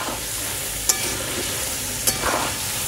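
Pieces of country chicken fry in a pan with a steady, close sizzle, and two sharp spatula clanks against the metal land about a second apart amid the stirring.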